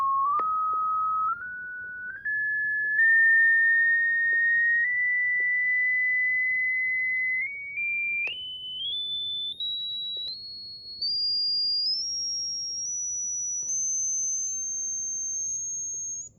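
A pure sine tone for a hearing test climbs steadily in pitch in small stepped jumps, loud and alone, sustaining throughout before cutting off at the end.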